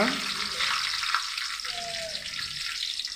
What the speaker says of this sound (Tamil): சீரகம், வெந்தயம், விட்டால் ப்ரௌன் கலர் ஆகிற வரைக்கும் அதை வறுத்துக்குங்க